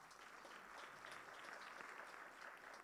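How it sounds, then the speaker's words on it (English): Audience at a memorial service for a minister clapping together in steady, dense applause that holds at an even level throughout, fairly distant and soft. "You can encourage them with a clap one more time."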